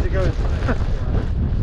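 Strong gusty wind buffets the microphone at a bike park during a storm, producing a loud, continuous low rumble; someone speaks briefly over it.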